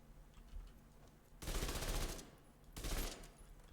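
Two loud bursts of rapid rifle fire from the video game The Division 2, each about a second long and separated by a short pause, stand over a quieter background.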